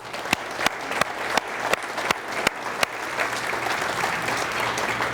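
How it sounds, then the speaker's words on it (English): Audience applause at a city's State of the City address, a dense burst of clapping hands that stays steady and fairly loud through the whole stretch with no talk over it. "we ought to give a little applause for all those jobs"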